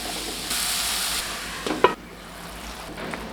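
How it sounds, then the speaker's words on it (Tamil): Mushrooms sauté in hot oil with turmeric, chilli powder, garam masala and salt, giving a steady close sizzle and hiss with a brief clink of stirring near the middle. "காளான் வதங்கிறதுக்கு தேவையான அளவு உப்பு இதெல்லாம் சேர்த்து நல்லா வதக்கி விட்டுறலாம்."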